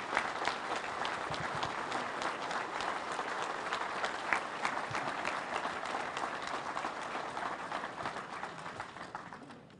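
A union rally crowd gives sustained applause for a speaker, dense steady clapping from many hands that holds level, then begins to thin and fade toward the end.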